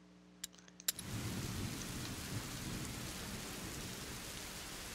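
A rain storm in the video game A Plague Tale: Innocence: a few faint clicks, then heavy rain suddenly swells into a dense, steady downpour with rumbling thunder underneath, loud and close.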